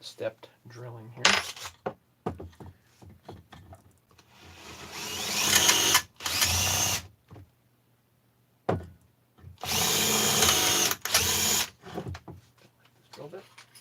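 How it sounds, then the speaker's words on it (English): A drill runs in several loud bursts separated by pauses, stepped drilling for M5 and M8 sizes, interspersed with clinks and handling noises nearby. "Bit of stepped drilling here."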